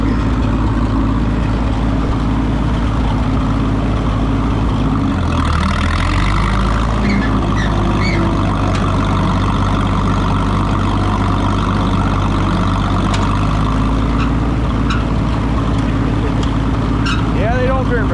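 A vehicle engine drives in third gear, a loud, steady low drone that dips briefly before settling back, with voices over it.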